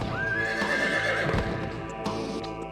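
A horse neighs with a rising, drawn-out whinny over clip-clopping hooves in the Shin Megami Tensei III: Nocturne video game, loud and close, with no talking.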